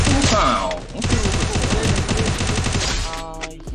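Sustained automatic gunfire in the battle-royale game Free Fire, a dense near burst of rapid shots lasting about three seconds, with faint voice chat underneath.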